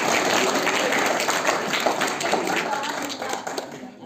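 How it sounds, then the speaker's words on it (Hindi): Audience applause at a debate competition, steady loud clapping from a crowd in a hall that holds throughout and fades slightly near the end. "तो एक बार में जो तालियां बजा दीजिए।"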